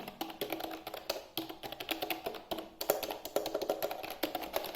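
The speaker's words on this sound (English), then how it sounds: "it's giving me the feeling of a typewriter" Clacky keystrokes on an iGEAR KeyBee retro typewriter-style wireless keyboard, a fast, steady stream of close, crisp taps with no voices.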